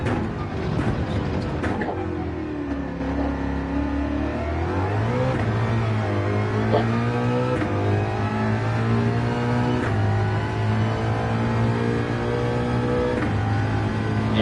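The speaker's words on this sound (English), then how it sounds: "right now we're in the Mustang" A Ford Mustang race car in Gran Turismo 7 revs and accelerates through its gears, the engine note climbing and dropping with each shift as it holds a steady, loud drone through small speakers.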